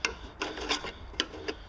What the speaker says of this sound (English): and scrape all the grass out from around it